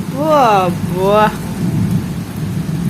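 Heavy rain pours steadily with a deep rumble of thunder, and a voice speaks briefly over the downpour near the start.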